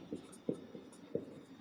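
Pen strokes scratch out math on paper in three quick, soft bursts with short pauses between them, faint and close with no voices.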